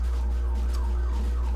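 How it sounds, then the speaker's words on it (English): A police siren in a TERA online game, heard as faint, repeated wailing sweeps under a steady low drone throughout. "And if you hear that, that's a siren."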